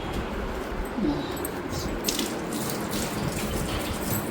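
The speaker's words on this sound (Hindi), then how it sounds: "पहले हाथ में धो लो" Water runs steadily from a tap during handwashing, a constant close splashing hiss with faint clinks above it, and no talking.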